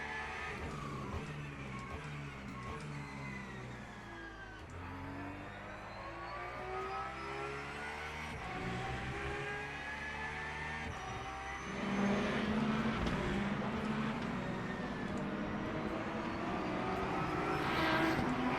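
A race car engine in the Le Mans Ultimate sim racing game drones steadily as the car accelerates onto a straight, with rising and falling pitch through gear changes and a louder surge near the end.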